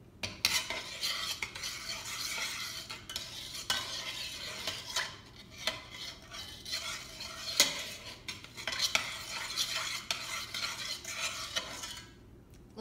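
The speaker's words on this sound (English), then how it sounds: "Now time to mix it up." Homemade green slime mixture is stirred in a container, with repeated close scraping and sloshing strokes in an uneven rhythm and no voices.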